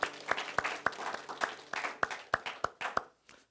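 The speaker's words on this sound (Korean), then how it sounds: "우리 축복의 박수 쳐드리겠습니다." A church congregation breaks into applause during a Sunday worship service, a dense ripple of many hands with sharper claps standing out, dying away after about three seconds.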